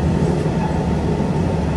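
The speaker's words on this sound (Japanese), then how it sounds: "まもなくいたしますと列車は熊本駅に到着いたします" A train approaching Kumamoto Station rolls along with a steady low rumble and faint rattling, heard from inside a carriage, with no voices.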